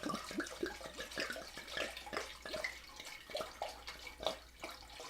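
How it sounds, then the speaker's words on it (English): Red wine is poured from a bottle into a cooking pot for mulled glühwein, giving a continuous close gurgling, splashing stream with small irregular glugs throughout. "What we're going to do is we're going to take this and straight into our pot. All the wine's going in."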